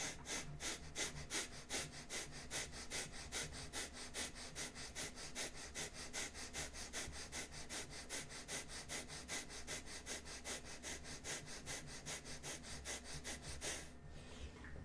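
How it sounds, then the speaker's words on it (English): Rapid abdominal Kapalabhati breathing during pranayama, a long steady train of sharp, forceful nasal exhales about three per second, close and prominent, stopping abruptly near the end, with no talking. "It's like rapid abdominal breath."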